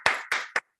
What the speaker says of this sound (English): give a warm, resounding round of applause